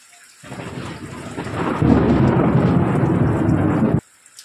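Heavy rain pours down steadily with deep rumbling thunder rolling underneath, growing louder partway through, then cutting off abruptly.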